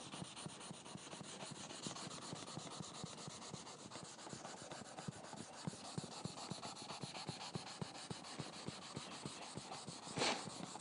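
Sandpaper rubs back and forth across wood wet with oil finish in steady, rapid close strokes, with a faint gritty rasp that continues without pause.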